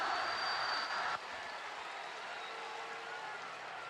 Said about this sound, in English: Georgia fans applaud as Stetson Bennett came racing across the field to the Georgia bench